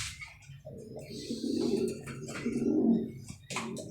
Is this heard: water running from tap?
no